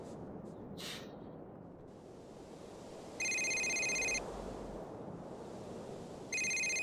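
A mobile phone ringing in Grand Theft Auto 4, two short bursts of a bright electronic ringtone separated by a pause, heard over a quiet hissy game background.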